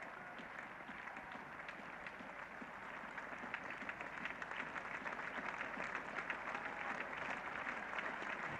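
Big crowd at a Lord's cricket Test match, England v Australia, applauding steadily and generously, a dense sustained wash of clapping that grows slightly louder toward the end.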